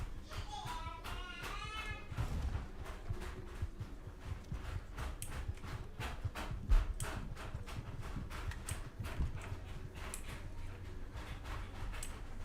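Horse hooves clip-clop steadily in Red Dead Online, a rapid rhythmic beat of footfalls running through the whole stretch at moderate loudness, with a voice speaking briefly near the start.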